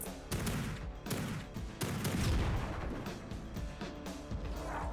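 Explosions in the video game Project Warlock: a rapid string of loud blasts and booming impacts, several sharp bursts over a few seconds with rumbling tails, no talking.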